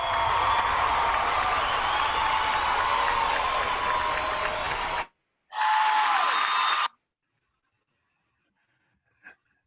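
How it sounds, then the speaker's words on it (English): An audience applauds steadily to welcome a speaker to the stage at a conference, dense clapping that cuts off abruptly, resumes briefly, and then gives way to near silence. "I don't think I've ever gotten that much applause before."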